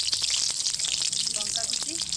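Panch phoron spices crackle and sizzle in hot oil in a pan for a khichuri of mixed vegetables and dal, a dense, steady, loud frying hiss with small pops throughout.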